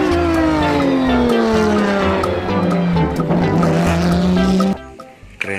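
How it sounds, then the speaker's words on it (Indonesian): A Lamborghini race car roars at close range, its engine pitch sliding steadily downward as tires squeal, then the sound cuts off abruptly near the end, leaving faint clatter. "Wow, mobil balap Lamborghini."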